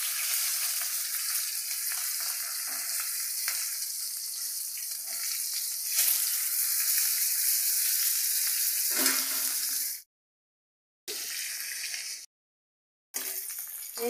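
Flipped bhetki fish pieces sizzling in hot oil, a dense, loud, steady crackle heard close up, broken near the end by two brief silences before frying resumes.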